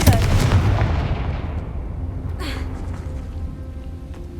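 The Confringo fire spell in Hogwarts Legacy goes off as a single loud booming blast with a crackling burst, and then a long fading rumble and echo tail.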